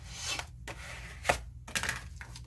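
A spatula scrapes and smooths glued paper onto a small notebook cover, soft close rubbing strokes in short bursts with brief pauses between them.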